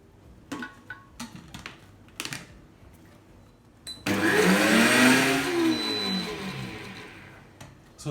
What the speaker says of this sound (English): Put them in your blender